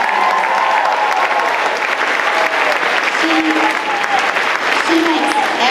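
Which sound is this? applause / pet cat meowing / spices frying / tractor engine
applause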